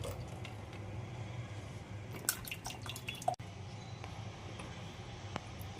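Blended bottle gourd juice drips through a kitchen strainer as quiet, scattered drops and small splashes over a faint steady background, with no talking.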